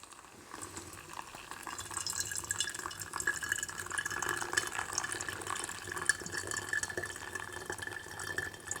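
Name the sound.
pouring near-boiling water over coffee in Sea to Summit X-Brew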